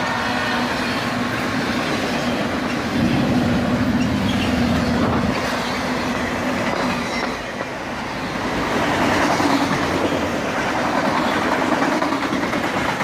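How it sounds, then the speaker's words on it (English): A freight train hauling autoracks rolls past at top speed with a loud, continuous rumble and rattle of cars, steady clattering wheels and a brief dip midway before the roar resumes. "This train was also moving at top speed."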